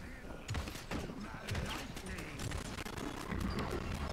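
Rapid gunfire in the video game Paladins, a dense stream of quick shots with periodic louder bursts under a continuous busy game mix.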